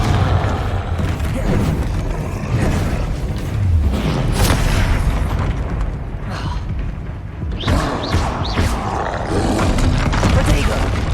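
Hogwarts Legacy's Confringo explosion spell sets off heavy booming blasts and roaring bursts in a loud, dense game mix, with another loud rumbling burst near the end.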